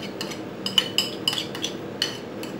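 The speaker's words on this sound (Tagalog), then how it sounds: "i-mix lang natin yung ating crab meat dito" A metal utensil clinks against a bowl while crab meat is mixed for stuffed crab (rellenong alimasag), with several sharp scattered clinks and scrapes over a low steady background and no talk.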